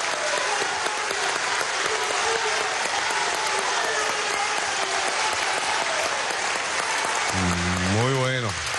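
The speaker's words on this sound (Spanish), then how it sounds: "Vamos a dar un aplauso." Audience at a Venezuelan government celebration of the Barrio Adentro health mission applauds steadily and loudly throughout, a dense sustained wash of clapping with crowd noise and a voice rising near the end.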